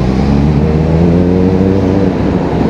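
A Kawasaki ZX4RR motorcycle's engine hums in a steady, loud drone while riding through city streets, the tone holding even with a slight dip toward the end and no voices.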